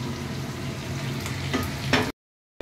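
Onion frying in a pan with a steady close sizzle and a few stirring scrapes near the end, then cutting off abruptly into silence.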